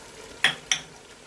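A utensil scrapes through a masala mix with mint and lemon juice for egg biryani in a pan, two quick close clinks over a faint background hiss, no voices.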